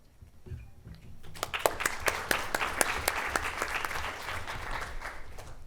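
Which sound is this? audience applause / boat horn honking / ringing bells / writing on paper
audience applause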